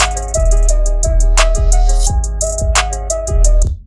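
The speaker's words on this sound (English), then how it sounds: "Added some claps to it." Sharp claps land on a steady backbeat over a loud looping groove of ticking hi-hats, deep sustained bass and a bright repeating melody, with no vocals.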